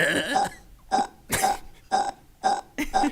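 A quick run of small, throaty burps, about six short bursts in a row, loud and close with no other sound around them.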